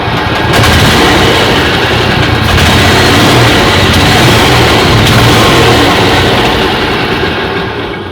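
A Club Car golf cart with a newly replaced starter is started in neutral and its engine roars loud and close, a dense, steady, heavily distorted rumble that holds for the whole stretch with no talking.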